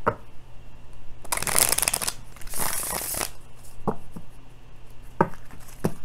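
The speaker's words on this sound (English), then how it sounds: "It's a lot of cards I was trying to flip out of my hand there." A handful of tarot cards is flipped and riffled in two quick bursts of papery fluttering, followed by a few sharp single card snaps, close up, with no speech.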